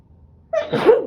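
A single close, sharp sneeze bursts out after a brief quiet moment, with nothing else around it.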